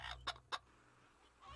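A chicken in the video game Fable Anniversary gives a few sharp clucks, three quick bursts close together followed by a softer one, quiet with no talk.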